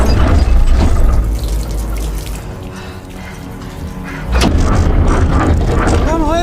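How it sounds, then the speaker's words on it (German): A German Tiger tank fords a river, with water churning, splashing and rushing around the hull over a low engine rumble, and a loud surge of sloshing near the end. "Wir durchqueren den Fluss und tauchen auf der anderen Seite wieder auf."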